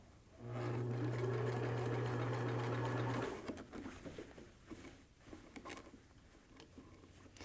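Sewing machine stitching fabric for a cap, a steady loud motorized hum running about three seconds before stopping, followed by quieter handling rustles.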